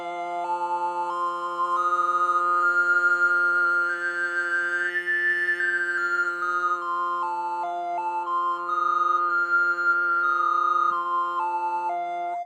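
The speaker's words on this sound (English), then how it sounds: "I just have another little clip of me overtone singing" A sustained sung drone with whistling overtones gliding up and down above it, steady and clear, with no piano audible.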